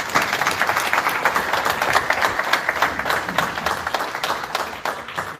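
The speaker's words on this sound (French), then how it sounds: "un très grand applaudissement pour lui" A crowd at the Victoire Ingabire Prize for Democracy and Peace ceremony claps warmly and loudly for a posthumous laureate. The applause is close and sustained, with a steady pulse of many hands throughout.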